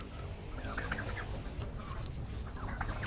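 Chickens cluck and chatter in a busy farm flock mixed with ducks and turkeys, several birds calling over a constant low background rumble, with short clucks scattered throughout.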